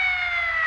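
A police siren in GTA V wails loud and steady for a moment, a bright sustained tone over a low engine hum.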